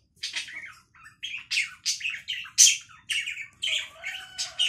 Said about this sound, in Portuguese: Esqueça aquele passarinho ali, ignorem.